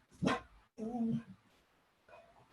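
A dog gives two or three short barks and a whiny yelp indoors, close and moderately loud, with no one speaking.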